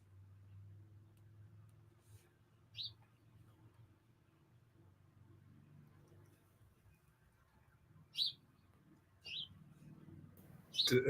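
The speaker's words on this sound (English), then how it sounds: "Am I hearing a bird? Yeah, we have birds in the front yard." A few short bird chirps ring out sporadically in a front yard over a low, steady background hum, faint and somewhat distant, with a couple of calls clustered near the end.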